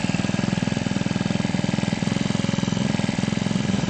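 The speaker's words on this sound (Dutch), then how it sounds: "De oplossing? De kantmaaier." A Honda petrol lawn edger engine runs steadily close by, a loud, even pulsing drone with a fast regular beat and no talking.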